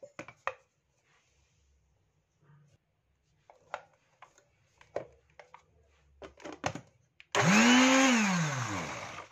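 After several seconds of quiet handling clatter and taps, a blender roars to life, mixing raw chocolate ingredients for keto chocolate. The motor is loud and close, with a whining pitch that dips and rises as the blend thickens.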